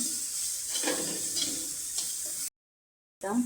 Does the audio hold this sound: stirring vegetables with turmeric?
yes